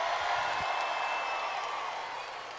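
A home crowd at a church event with Drew Brees cheers and whoops steadily, a broad wash of voices and scattered claps that holds at a fairly even level before easing slightly toward the end.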